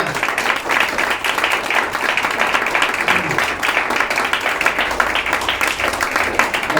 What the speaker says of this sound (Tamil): கையில் ரொம்ப நேரம் தட்டிடக்கூடாது